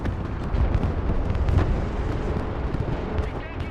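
MLRS rocket artillery firing in a real-time strategy war game, a loud continuous rumbling roar of launches and blasts blended into a dense wall of noise, close and sustained throughout.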